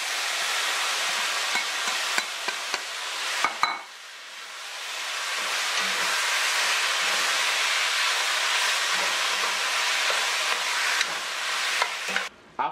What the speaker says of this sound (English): we're gonna add the pieces of pork and start moving it around to start picking up all that niceness